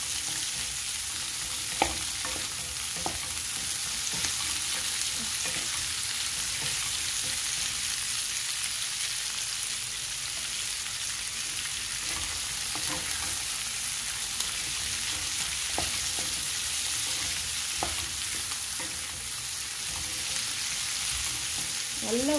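Spice masala for spicy mutton kuzhambu sautéing in a pan, a continuous dense sizzle with occasional scraping stirs and soft taps of the spoon, steady and close, with no voices.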